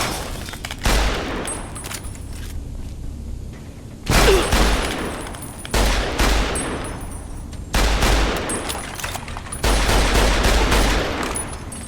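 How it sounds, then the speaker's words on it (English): Gauss rifle shots in Fallout: New Vegas, a series of four or five heavy booming blasts spaced a couple of seconds apart, each one loud and close with a crackling, rumbling tail. "The other guy has a Gauss rifle."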